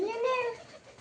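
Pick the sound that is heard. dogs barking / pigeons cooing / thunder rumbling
pigeons cooing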